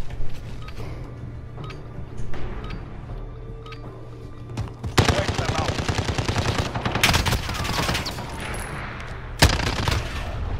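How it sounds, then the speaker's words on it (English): Automatic and single gunshots crack in bursts during a Modern Warfare multiplayer gunfight, loud and close, with rapid volleys packed into the second half and a low steady hum beneath. "Gunfight."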